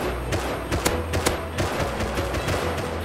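Gunfire in the Rust survival video game, a quick series of sharp shots in short bursts over a steady background hum.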